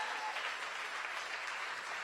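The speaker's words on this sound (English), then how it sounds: "Give him a loving round of applause." An audience at a Saturday morning community forum applauds steadily, a dense wash of clapping from a crowd held at an even level for a couple of seconds.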